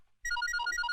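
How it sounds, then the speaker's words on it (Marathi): A telephone rings with a bright electronic ringtone, a quick repeating pattern of clear tones starting abruptly after a moment of silence, close and alone. "फोन वाजतोय."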